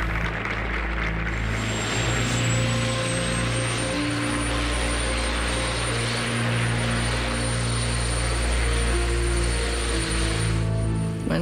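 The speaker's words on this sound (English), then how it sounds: "As the helicopter began to rise" A helicopter taking off with Nixon aboard gives a loud, steady whirring roar of rotor and engine, with a rising high whine above it, continuous throughout with no talk.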